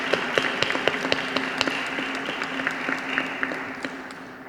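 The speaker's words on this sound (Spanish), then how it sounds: "Recibámoslo con un aplauso" An audience at a book presentation claps to welcome a speaker, a steady close wash of applause with sharp individual claps that slowly fades out over a few seconds.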